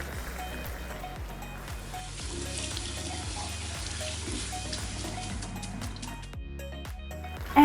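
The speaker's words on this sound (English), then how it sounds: "The next thing you want to do with these noodles is rinse them under some cold water" Noodles rinsed under a cold kitchen tap, with a steady hiss of running water splashing through them, fairly quiet and continuous, alone until a louder knock at the end.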